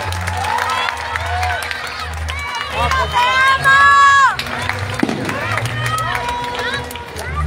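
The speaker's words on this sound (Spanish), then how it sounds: "Un aplauso, por favor." Crowd at a Mexican lucha libre wrestling event in Jalisco applauds and cheers around the ring, with voices and shouts rising loudly mid-clip over steady crowd noise.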